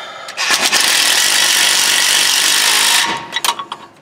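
A small carpentry power tool whirs loudly and steadily for about two and a half seconds while driving a bronze tube part, then winds down into a few short bursts and clunks.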